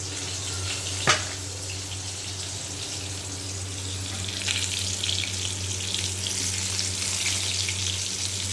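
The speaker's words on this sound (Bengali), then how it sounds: "লাল লাল করে ভাজা হয়ে গেছে, এবার এগুলো নামিয়ে নেব।" Slit pointed gourds (potol) frying in hot oil give a steady, soft sizzle that runs on evenly throughout, with one faint clink early on and no voices.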